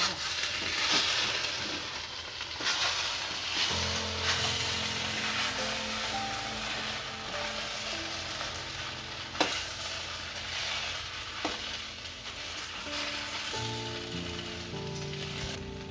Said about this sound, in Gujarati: દાણા નાખશું ભેળવી નાખશું